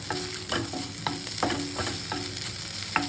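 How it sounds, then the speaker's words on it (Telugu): A spoon stirs chili powder into a spicy garlic brinjal curry frying on low heat, about six scraping strokes at an even rhythm over a faint, steady sizzle. "కారం యాడ్ చేశాను, చిన్నగా ఒకసారి అలా కలుపుకొని."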